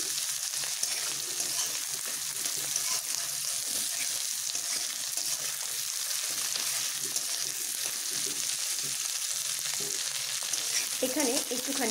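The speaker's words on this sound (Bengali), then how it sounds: "পেঁয়াজ ও ক্যাপসিকামগুলোকে একসঙ্গেই দিয়ে এইভাবে নেড়ে নেব।" Onions and capsicum sizzle steadily in a hot pan while being stirred for chili chicken, a continuous close frying hiss with scraping stir strokes, ending in a brief clatter, and no voices.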